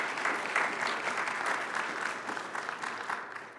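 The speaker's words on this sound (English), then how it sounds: "Let's just give her a quick round of applause" Steady audience applause after a talk at a local history event about postbellum Montgomery County, a dense, even wash of clapping that holds at moderate volume for the whole stretch and tapers slightly at the end.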